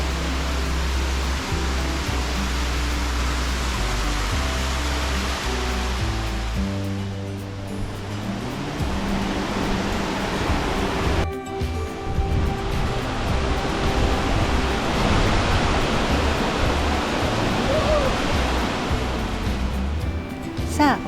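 Steady roar of Ryumon Falls, a 46-metre waterfall in Kajiki, Kagoshima, broadband and constant throughout, with music playing over it in the first part.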